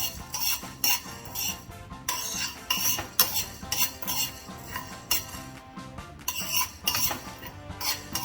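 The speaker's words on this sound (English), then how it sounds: "First goes coriander seed and black pepper. Just roast it for about half a minute or so." Coriander seed and black pepper dry roasting in a pan for a mutton kebab spice mix, with a steady run of clinks, taps and scraping as the whole spices are stirred against the metal, close and fairly loud throughout.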